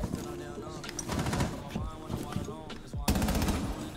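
Gunfire in the tactical shooter Rainbow Six Siege, with rapid bursts of automatic shots and sharp single cracks spread across the clip, mixed with game effects and a loud burst near the end.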